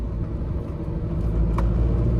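A Tata Nexon diesel car drives through ghat roads at night, its engine giving a steady, close, low rumble and drone inside the cabin that builds slightly in loudness, with no talk.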